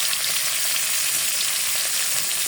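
Chopped green chillies fry in hot oil with potato and pointed gourd, giving a steady, close, continuous sizzle with no talking.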